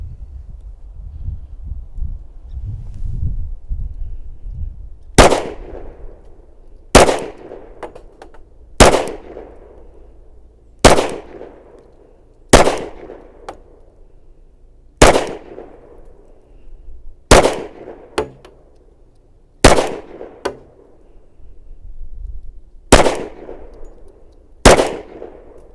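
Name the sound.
SIG Sauer P320 XTEN 10mm pistol gunshots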